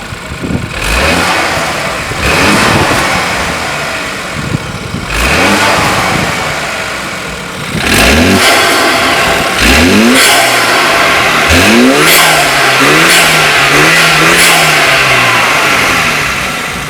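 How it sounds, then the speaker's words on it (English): A BMW F30 fitted with an Injen cold air intake idles close by, then is revved repeatedly: sharp rising engine pulls that fall back to idle, followed by a longer held, wavering rev, loud with no talking. "We're just going to start it up, let it idle for a sec, and then I'll give it some revs."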